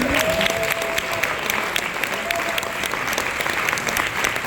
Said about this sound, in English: big round of applause for these guys over here